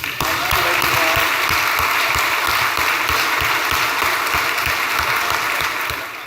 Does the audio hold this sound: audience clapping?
yes